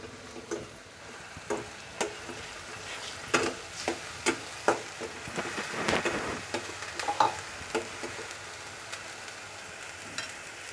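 Chicken curry masala with coriander and red chili powder sautés in a pan, a soft steady sizzle broken by regular ticking taps and scrapes of a spoon, close and moderately quiet.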